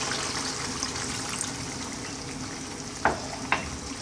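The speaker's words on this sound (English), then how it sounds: "I'm now going to add a little bit more water." Water goes into a pot of lamb curry with fenugreek on high heat, and a steady loud sizzle and bubbling fry noise runs throughout, with a couple of brief sharp clinks near the end.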